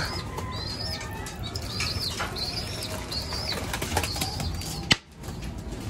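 Wild birds flap their wings near a trap site while chirps and calls sound overhead, with a steady low outdoor background and a sharp knock near the end.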